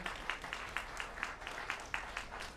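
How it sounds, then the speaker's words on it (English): Audience at an Austin SXSW 2019 festival talk applauding, steady rapid clapping from many hands, fairly faint and continuous. "Give yourselves applause if you're here from Austin for having gotten that done"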